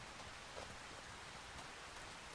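Steady rain patters evenly and continuously in a logging video game, a soft wash of droplets with no other sounds standing out.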